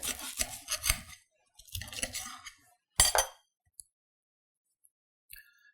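A knife cuts a bacon and egg breakfast sandwich in several close scraping, crunching strokes with short pauses between them, followed by a faint clink or two.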